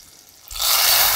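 Tempering (popu) hits toor dal rasam with a sudden loud hiss that swells after a quiet moment and keeps sizzling steadily.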